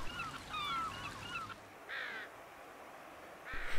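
Gulls call at a Pacific salmon spawning stream: a run of harsh, squealing cries, then two shorter separate calls after pauses, moderately loud over a faint background hiss.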